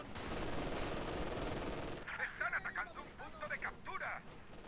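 Dense, rapid machine gun fire from a Company of Heroes 2 multiplayer battle roars for about two seconds, then someone talks over quieter bursts of combat.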